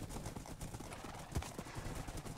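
A Minecraft horse gallops with quick, faint clip-clop hoofbeats and a short whinny, heard under game sounds during a multiplayer party game.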